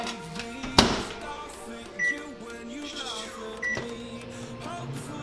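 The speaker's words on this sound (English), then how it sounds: "you can also just throw it in the microwave and let it do its thing." Microwave oven cooking broccoli hums steadily with a sharp clunk near the start and a few short beeps, heard close in a home kitchen.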